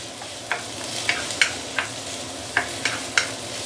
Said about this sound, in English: You want to saute this for about a minute or 2 before we continue